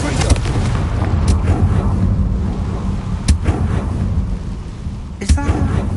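An Incendio fire spell being cast in Hogwarts Legacy, with a deep rumbling roar and several sharp booming bursts standing out over a steady loud low background.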